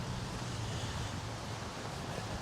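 Steady outdoor wind at a Dutch pioneer cemetery, a continuous broadband rush with low buffeting rumble against the microphone, fairly loud and unbroken throughout, with no voices.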